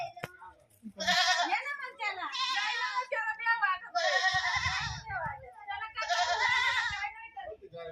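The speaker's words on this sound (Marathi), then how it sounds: "सगळ्या शेळ्यांचा आणि गायांचा गोठ आहे" Goats in a shed shared with cows bleat loudly and close by, four long wavering calls in a row with short pauses between, while a person speaks quietly in the gaps.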